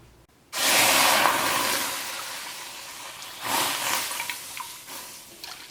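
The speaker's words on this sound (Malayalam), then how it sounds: "അതിന് വേണ്ടിയിട്ട് ഈ പാത്രത്തിലേക്ക് 8 കപ്പ് പാല് ചേർക്കാം." Eight cups of milk poured into a pot for an eggless milk cake, a steady liquid splash that starts abruptly, runs loud for several seconds, then tapers with a brief surge near the end.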